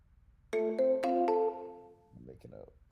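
Electronic phone ringtone for an outbound call placed through a sales automation setup, a few melodic tonal notes sounding clearly and loudly, then fading into quieter trailing tones and faint voice-like sounds.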